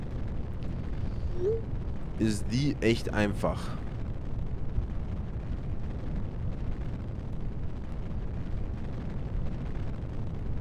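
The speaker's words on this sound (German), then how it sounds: "Dann würde ich sagen 3, 2, 1, Liftoff." Rocket liftoff roar in the video game Kerbal Space Program, a steady broadband rumble filling the whole stretch, with a brief burst of crackling near the start and someone speaking over it.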